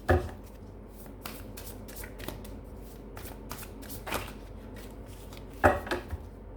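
A deck of oracle cards is shuffled by hand in soft, riffling bursts and light taps, close and intermittent, with no talking.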